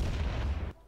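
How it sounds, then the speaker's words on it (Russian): Heavy cannon shots from warships in the naval video game Leviathan Warships, a dense, loud, rumbling volley of booms filling most of the second before cutting off abruptly into quiet. "Вот эти выстрелы здесь вообще просто здорово сделано."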